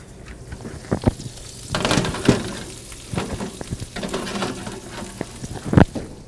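Cubes of boiled, peeled root vegetables sizzle and crackle in a hot pan as they caramelize alongside roast chicken, a steady frying hiss with occasional louder pops and stirring noises, close and with no talking.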